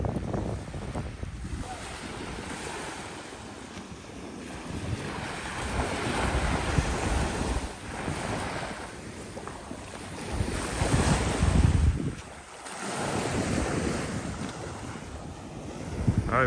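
Ocean waves washing onto the beach at a resort in Negril, Jamaica, a steady roar of surf with swelling breaks and wind buffeting the microphone.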